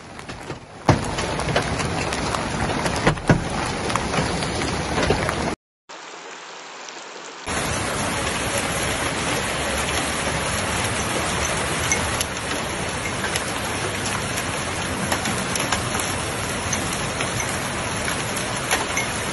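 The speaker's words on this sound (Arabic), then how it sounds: "حيث شهدت مناطق في الإمارات اليوم أمطار غزيرة تسببت في سيول هادرة" Heavy rain pouring in Al Ain, UAE, a loud dense steady roar of rain on surfaces, briefly cut off by a gap before resuming just as strong.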